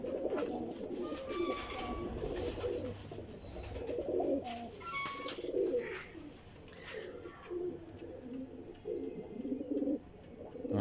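Pigeons coo in soft, repeated low rolls, several birds overlapping close by, with a few faint chirps above and no talking.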